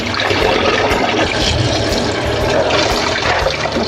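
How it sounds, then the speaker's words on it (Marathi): Cold water pours steadily and loudly into a vessel of boiled potatoes, a continuous splashing rush with no pauses. "आता ह्याला आपण जरा गार पाणी टाकून घेऊया"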